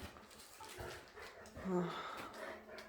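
Dogs at a home beside a horse paddock pant and let out a short whimpering whine, close by and fairly quiet, with brief human voices in the background.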